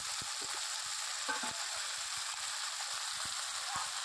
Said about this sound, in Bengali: মাংসর সাথে কিছু সময় ভালোভাবে কষিয়ে নেব